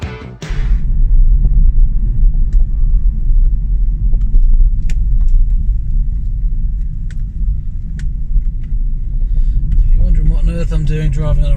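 A Hyundai Kona Electric rolls along a narrow rural road with grass growing down the middle, giving a steady low tyre and road rumble close inside the cabin, with a brief voice at the start and talking near the end.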